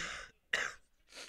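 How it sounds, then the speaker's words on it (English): A commentator casting a StarCraft match coughs and clears his throat in three short, close bursts separated by brief pauses, with no other sound around them. "I have the cough"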